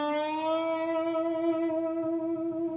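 An electric guitar plays a sustained bent note with vibrato, a single clear tone whose pitch wavers slightly as it slowly fades. No other instruments or voices are present.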